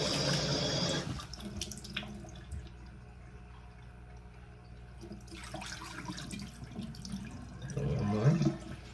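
Water swirled and stirred by hand in a fish tank during cleaning, a steady sloshing wash with a louder burst at the start and again near the end.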